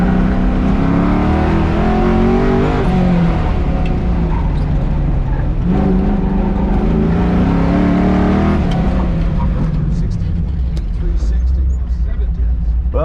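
An autocross car at the Larry Park Memorial CAM event revs hard around the course, a loud, close engine drone rising and falling with each acceleration and lift throughout.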